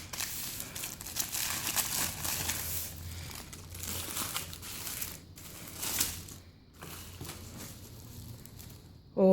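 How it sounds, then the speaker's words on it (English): Crinkly paper and foil wrapping is pulled off a Volcano quesarito, close crackling and tearing in uneven bursts with short pauses, ending in a brief louder rustle. "today I have a Volcano quesarito unwrapping"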